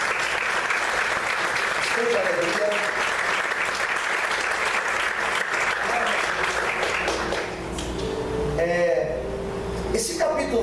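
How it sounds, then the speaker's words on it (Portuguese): A church congregation applauds loudly and steadily for about ten seconds during an evening service, with a voice speaking over the clapping and some music tones toward the end. "Vamos aplaudir o Senhor nessa noite."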